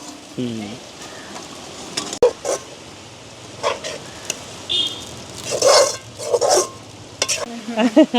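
Greens (keerai) sautéing and wilting in a pan in a village kitchen, with soft sizzling and scraping stir strokes, intermittent utensil clinks, and a voice heard briefly in the background.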